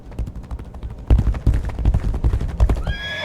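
Horse galloping and whinnying in the video game Legacy of Kain: Ascendance, with loud, rapid clip-clop hoofbeats and a neigh that rises near the end.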